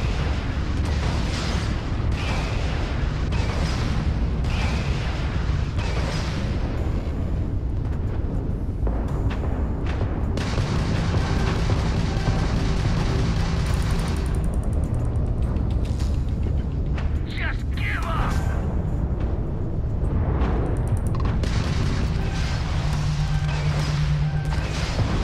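Missiles fire during space combat in Starfield, a long run of booming blasts and crashing bursts over a constant engine rumble, loud and continuous with repeated sharp impacts.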